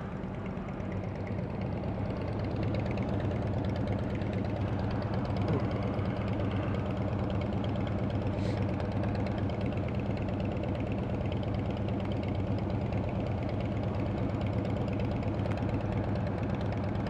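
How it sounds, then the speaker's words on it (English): A Suzuki Hayabusa motorcycle engine idles nearby with a steady, unbroken rumble and a slight knocking pulse, holding at an even loudness throughout with no voices. "A nice little Hayabusa."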